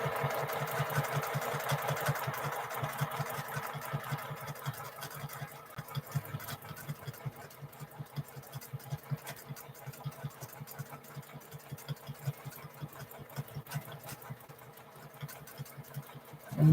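A home sewing machine quilting feathers runs in a steady rapid stitching rhythm, close and moderately loud, slowing slightly and varying in speed through the stretch, with no talking.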